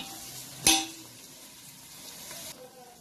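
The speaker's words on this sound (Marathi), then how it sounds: "हे कांदा टोमॅटो चांगलं भाजलेलं आहे" Chopped onion and tomato fry in a pan over a high flame, giving a steady, moderately soft sizzle with one sharp utensil clink near the start and no voices.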